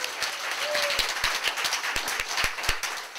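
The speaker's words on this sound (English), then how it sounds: "And I'd also like a round of applause for Buffalo Street Books." Audience applause at a book festival reading sponsored by Buffalo Street Books: a modest crowd claps steadily, with sharp individual claps standing out, near and moderately loud.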